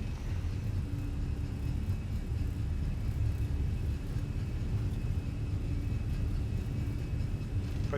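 A British Airways airliner rolls down the runway for takeoff in Microsoft Flight Simulator 2020, a steady, faint, low engine rumble with a constant drone throughout.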